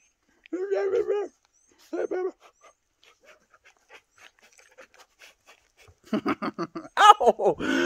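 A playful puppy pants and makes small dog noises in quick bursts, close by, with a person talking and laughing over it.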